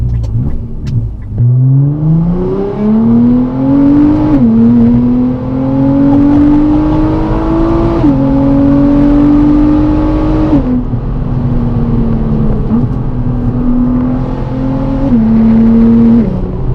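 A loud Nissan GT-R exhaust, made louder by a malfunction, roars as the engine revs up through several gears in steps, a raspy, booming drone close to the listener.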